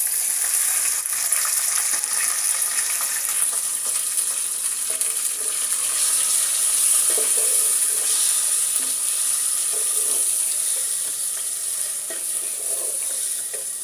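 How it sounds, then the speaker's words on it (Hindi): Chicken liver frying in a pan with browned onions, a steady bright sizzle with occasional stirring scrapes throughout, close and fairly loud with no voices. "ये देखिए अब मैं डालने लगी हूँ कलेजी, क्योंकि ये प्याज जो है ब्राउन हो चुके हैं।"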